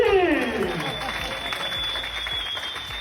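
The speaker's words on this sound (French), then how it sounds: "Est-ce qu'on peut applaudir pour moi-même aussi?" Applause from an event audience, a steady wash of clapping with a few shouts that fades slightly across the clip, with a speaker's voice briefly at the opening.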